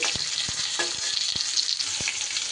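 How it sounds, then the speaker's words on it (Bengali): Slices of pointed gourd (potol) fry in a pan next to potatoes pushed to one side, giving a steady close sizzle with several sharp spatula scrapes and taps spaced through it. No one speaks. "এই দিকে কিন্তু আমি পটলগুলো দিয়ে ভালো করে একটু ভাজা ভাজা করে নিচ্ছি"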